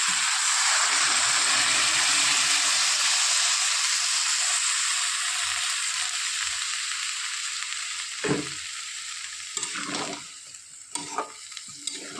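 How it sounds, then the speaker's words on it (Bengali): Water poured into a hot pan of sautéed vegetables while cooking pumpkin greens at home, a steady loud sizzle and hiss that fades slightly, followed by a few clinks and stirring noises near the end. "সবজিগুলো কিছুক্ষণ কষে নেওয়ার পর এবার জল দিয়ে দেবো।"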